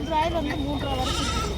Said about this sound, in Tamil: ஏ ஆட்டுக்குட்டி